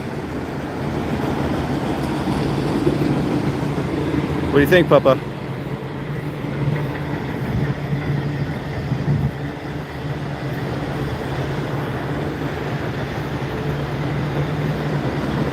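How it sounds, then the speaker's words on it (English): A long train rolls past near a reservoir in Ohio with a steady, continuous rumble throughout. A brief horn-like tone sounds early on, and people talk over the noise. "This is a long train."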